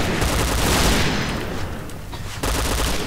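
Rapid, loud bursts of gunfire from the online shooter Point Blank fill the scene as sustained automatic fire, thinning briefly before another dense volley resumes.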